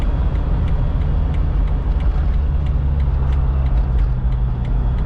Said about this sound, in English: we'll run it up to about 50 miles an hour, give me an idea. You're gonna have a little bit of wind noise